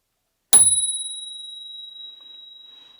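A single strike of a soft-toned bicycle bell, a clear bright ding that rings on with a long, slowly fading, shimmering sustain.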